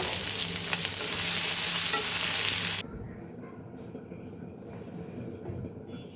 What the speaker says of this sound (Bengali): মরিচ পেঁয়াজটা লাল লাল হয়ে গেলে সিদ্ধ করে রাখা পুঁই শাকের ফলটা দিয়ে দেবো।